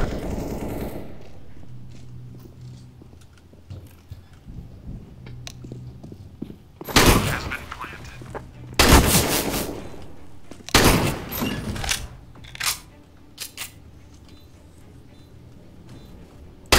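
Sawed-off shotgun blasts go off in CS:GO, several loud booming shots separated by gaps of a second or two over quieter game ambience with footsteps and a faint hum, with no talking.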